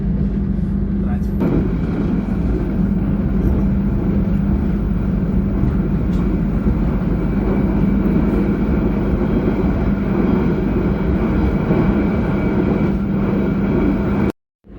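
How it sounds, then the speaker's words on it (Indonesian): A steady, heavy rumble of the Ambarawa Express train arriving at Cepu station, a continuous low drone with mechanical hum that holds throughout before cutting off abruptly at the end. "Kereta api Ambarawa Express tiba di stasiun Cepu"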